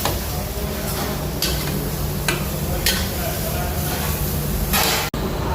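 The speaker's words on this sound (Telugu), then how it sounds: "మొత్తం మంచిగా కలుపుకోవాలి." Pumpkin kheer is stirred in a pot of ghee, giving steady scraping and soft sizzling throughout, with a few brief brighter scrapes and a quick knock near the end.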